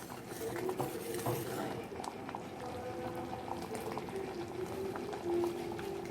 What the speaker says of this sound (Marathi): आता साधारण 1 ते 2 मिनिटं बारीक गॅस करून मी शिजू देते.